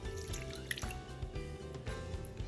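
Lemon juice pours into a creamy cucumber salad dressing, a soft trickle and drip lasting a couple of seconds over a steady low background hum.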